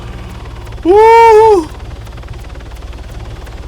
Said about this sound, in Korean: 헬기 저공비행 오진다 와.